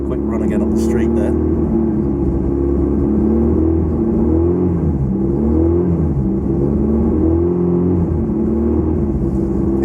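A Lotus Excel engine idles steadily with a light blip of throttle, a continuous close, low rumble running the whole time with a faint hiss above.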